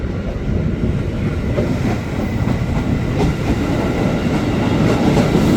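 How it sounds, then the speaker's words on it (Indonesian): A KRL commuter electric train rolls into Duri station in Jakarta, a loud, close, continuous rumble with rhythmic wheel clatter over the rail joints throughout. "Tujuan akhir stasiun akhir rangkaian masuk di jalur 1"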